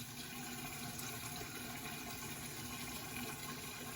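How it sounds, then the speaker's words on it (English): Cold water runs and splashes as a face is rinsed before a safety razor shave, a constant close watery rush with no talk. "rinse off our face with cold water really quickly"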